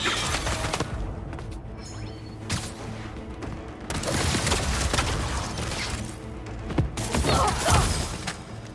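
A gunfire barrage in the Spider-Man 2 video game, with bursts of rapid shots and crashing impacts in several loud waves amid game action and clattering debris.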